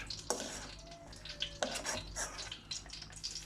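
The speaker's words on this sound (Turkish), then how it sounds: "Şu anda iyice karıştırıyoruz." A carrot and walnut mixture with crushed petit beurre biscuits is stirred in a bowl, giving moist scraping and squelching strokes in an uneven rhythm, close and fairly quiet.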